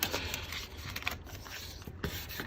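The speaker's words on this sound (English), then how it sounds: "I'm burnishing the front and the back" Vinyl decal under matte transfer tape being burnished onto a glass cup, a steady close rubbing and scraping texture with small bursts of friction, no talking.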